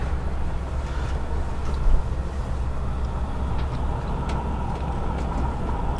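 Interior of an SJ InterCity train 85 running between Järvsö and Bollnäs in Sweden, a steady low rumble of the carriage riding the rails with faint clicks, no talking.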